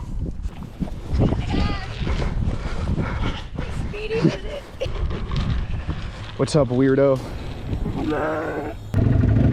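Several high, wavering goat bleats ring out near the end, over a noisy outdoor scene in Hawaii with people talking and brief gusts.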